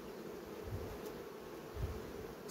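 Honey bees at a hive with a red queen, a steady low insect drone running throughout, fairly faint, with a couple of slightly louder swells and no talk.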